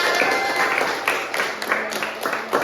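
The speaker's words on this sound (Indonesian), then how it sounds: "luar biasa, tepuk tangan" Sixth-grade pupils clap together in a classroom during a lesson, a brief burst of applause mixed with the chatter of a lively room.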